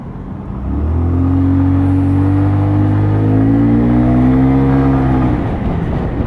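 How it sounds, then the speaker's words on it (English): A Lexmoto Apollo motorcycle on a road ride is revved and pulls away, its engine note rising steadily and holding a strong, loud drone for several seconds before easing off, close to the microphone. "It don't take a lot just to give it a bit of revs and power it up, and away it goes to 30."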